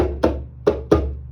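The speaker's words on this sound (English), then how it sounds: "don't let the fingers rest on the skin because that'll deaden them." Three short, dull slaps on a djembe with the fingers left resting on the skin, each one choked off quickly instead of ringing, spaced unevenly and heard close up.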